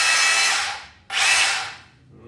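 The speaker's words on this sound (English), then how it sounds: "this one is the drill." A RYOBI P223 SDS-Plus rotary hammer drill whirs in two close, loud bursts. The first spins down, then the motor revs up again and tapers off. No one speaks.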